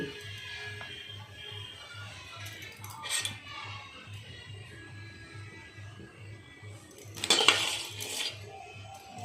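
A spoon clinks and scrapes against a pot while payesh with sugar, milk and date palm jaggery is stirred, faint soft knocks at a steady pace with a couple of louder metallic clatters.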